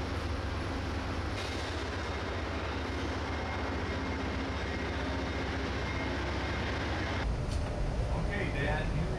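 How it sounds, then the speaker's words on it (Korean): A large double-decker transcontinental passenger train travelling from Chicago toward Denver gives a steady, loud rumble and rattle of rolling wheels throughout, heard from on board with no talk. "대륙 횡단 기차는 2층으로 그 크기가 어마어마하다."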